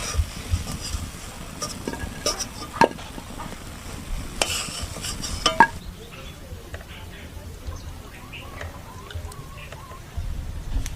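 Semolina and egg biscuits frying in hot oil and being lifted out, a soft sizzle under repeated clinks and scrapes of a utensil against the pan, busier in the first half and quieter afterward.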